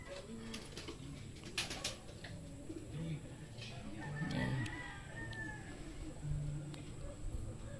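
Bird calls, cooing and a brief crow-like cry, sound over a busy outdoor background with faint voices nearby.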